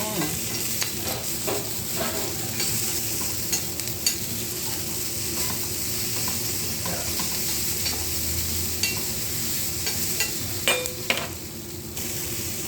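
Turkey berries sauté in oil for a chutney, with a continuous crackling sizzle and repeated scraping stirs of a spatula against the pan, close and even throughout with no talking.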